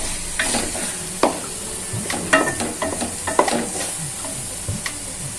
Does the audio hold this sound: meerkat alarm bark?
no